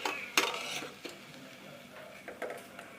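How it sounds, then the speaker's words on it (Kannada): A spoon scrapes and clinks against a pan as masala paste for chicken sukka is stirred, giving several irregular metallic knocks and scrapes, close and moderately quiet. "ಈ ಪೇಸ್ಟ್ ಸ್ವಲ್ಪ ಎಣ್ಣೆ ಬಿಡುತ್ತೆ, ಅಲ್ಲಿವರೆಗೂ ಇದನ್ನು ಅಲ್ಲಾಡಿಸೋಣ"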